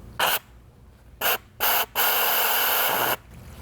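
Vacuum tool drawing down the coolant system of a 2020-2024 BMW G01 X3 during heat management module replacement, giving several short loud hissing bursts followed by a longer steady hiss, no talking.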